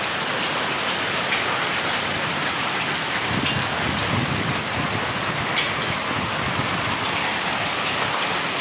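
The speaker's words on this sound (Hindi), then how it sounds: "लगातार ओले जो हैं वो पिछले 5 से 7-8 मिनट से गिर रहे हैं और तेज बारिश इस समय रियासी में हो रही है" Heavy rain with falling hail pours down steadily in Reasi, a dense, even hiss of drops hitting surfaces, close and unbroken throughout.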